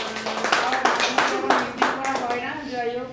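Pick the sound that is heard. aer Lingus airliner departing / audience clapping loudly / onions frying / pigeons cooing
audience clapping loudly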